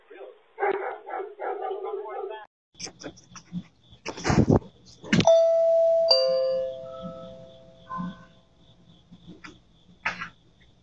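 A large dog barks a few times amid outdoor sounds, with a Ring doorbell chime ringing out and people talking nearby.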